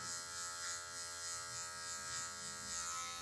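An electric hair clipper fitted with a number 1 guard buzzes steadily and close while cutting hair during a barbershop haircut, a constant hum with slight wavering.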